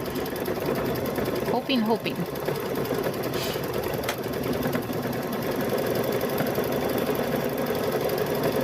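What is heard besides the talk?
sewing machine stitching a patchwork gnome quilt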